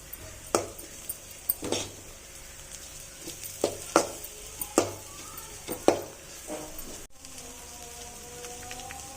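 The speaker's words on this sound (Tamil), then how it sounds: "மசாலாவை நல்லா வதக்கணும் ஃப்ரெண்ட்ஸ்." Masala for pasta is stirred and sautéed in a pan, with repeated scraping strokes of a spoon every second or so over a soft, steady sizzle, loud and close, followed by a quieter stretch of sizzling.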